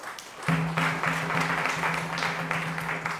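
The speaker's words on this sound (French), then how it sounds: "Merci d'applaudir une fois de plus." Audience applause at a medal ceremony honouring a capoeira master, a steady wash of many hands clapping that starts abruptly and holds evenly over a low sustained hum.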